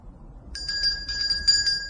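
Indoor doorbell at a house on Rue Hors Château rings in a quick series of bright, tinny electric chimes after a short quiet moment, close and moderately loud with no voices.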